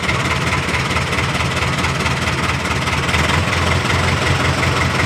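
A fishing boat's engine runs steadily while the vessel sits at anchor at sea at night, a continuous low idling rumble with a constant vibrating drone and no pauses.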